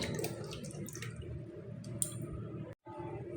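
Water poured over cut raw mango pieces in a bowl, a soft steady splashing and trickling with faint drips, close and quiet, briefly cutting out near the end.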